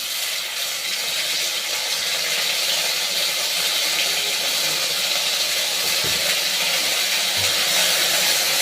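Cumin and ginger paste sizzles in hot oil in a pan, a loud, close, continuous hiss that crackles steadily throughout, with a faint clink near the end.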